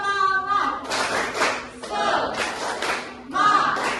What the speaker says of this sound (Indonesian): kita semuanya berangkat tepuk semangat ya